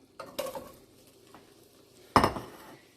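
Chopped onion and thyme dropped into butter in a low-heat pan for carrot soup, two bursts of clattering spoon-and-pan contact with a soft sizzle between, close and fairly loud.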